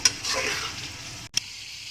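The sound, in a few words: water being poured into pot for chana pulao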